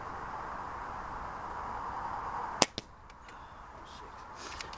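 A Brocock Concept S6 air rifle fires one sharp, close crack, followed by a softer second report, over steady background hiss.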